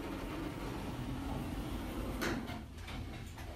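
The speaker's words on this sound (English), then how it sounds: "Doors closing." Lift doors in Fareham slide shut with a soft low rumble and a brief thud near the end, heard close against a steady mechanical hum, with no talking.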